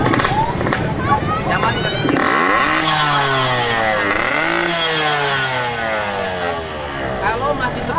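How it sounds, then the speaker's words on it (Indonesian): Motorcycle fitted with a loud aftermarket exhaust (knalpot brong) revving hard close by, its engine note sweeping up and down in repeated throttle blips, with people talking over it in a street setting. "Coba nyalain motornya. Ini knalpotnya bro."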